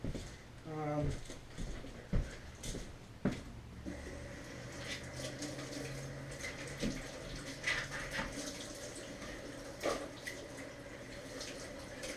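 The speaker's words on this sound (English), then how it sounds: "I'm going to run over to the sink and rinse these off real quick" Kitchen sink faucet water running as kydex holster parts are rinsed, a steady low splashing with scattered clunks and knocks of plastic pieces, with brief faint voice sounds near the start.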